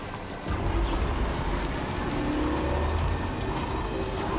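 Car wheels rolling over dirt and dust in an open-world video game, a steady, close rumbling road noise with gritty crunching that continues without a break and with no talk over it.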